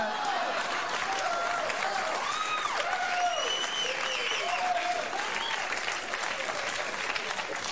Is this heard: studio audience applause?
yes